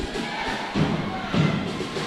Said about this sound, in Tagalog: rinig na rinig pa rin natin ang hiyawan at sigawan dito sa loob ng Ateneo Gymnasium